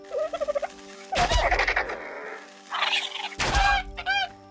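A dodo in the game Ark Survival Evolved squawks and gobbles in short, turkey-like bursts while being attacked, with dull thuds of blows between the calls, near and clear against a quiet game background.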